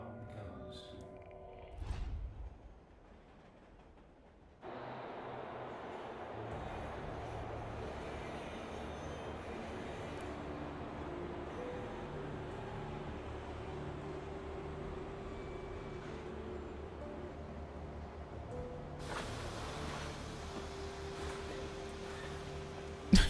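A train in the video game Bayonetta rumbles steadily for a long stretch after a brief clatter, with a low continuous rolling roar and a brighter burst of noise near the end.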